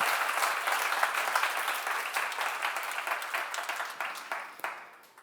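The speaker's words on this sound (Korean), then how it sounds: "박수 한번 쳐봐요" A seminar audience in a church setting claps together, a dense, fairly distant patter of many hands that holds steady then gradually thins and fades out.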